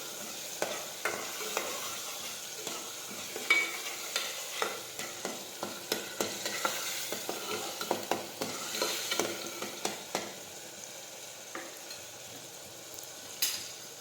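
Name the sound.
stirring spices into eggplant and potato curry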